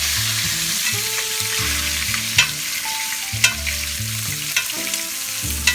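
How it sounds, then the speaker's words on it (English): A ribeye steak bastes in a tilted cast iron skillet, a steady loud sizzle with occasional sharp spoon clinks against the pan, under low background music and without talk. "I'm going to tilt the pan at an angle and we're going to baste"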